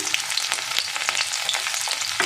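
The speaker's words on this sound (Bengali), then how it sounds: "তেল গরম হয়ে গেছে, এবার রসুন কুচিগুলো দিয়ে দিলাম।" Chopped garlic hitting hot oil in a pan for a chilli egg potato dish, a bright crackling sizzle with frequent pops and light stirring, close and uninterrupted by speech.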